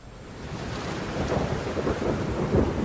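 A heavy monsoon downpour hisses steadily at Parshuram Ghat in Ratnagiri, Maharashtra, with low thunder rumbling beneath it and swelling slightly toward the end.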